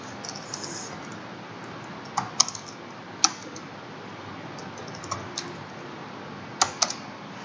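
Typing on a computer keyboard during Python list programming: scattered sharp key clicks, a few in quick clusters, over a quiet room hiss with no talking.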